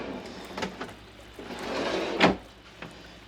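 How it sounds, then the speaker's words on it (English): Self-closing drawers in the galley of a Moody DS48 yacht slide shut with a few soft thumps and one firmer knock near the end, close and moderately loud, with no talking. "they're all self-closing drawers."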